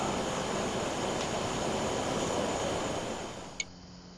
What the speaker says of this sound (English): starting us out in the south at 187 degrees, getting overflown by an airplane